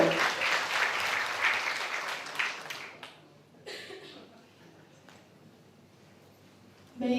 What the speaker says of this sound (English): Give applause everyone to our distinguished speaker.